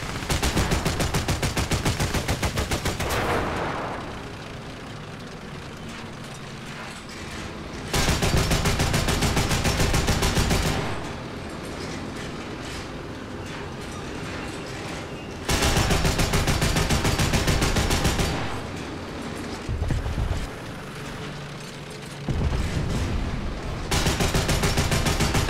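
A vehicle's gun firing armour-piercing rounds in a video game, loud sustained bursts of rapid close gunfire that stop and restart several times, with quieter stretches of engine and battle noise between them.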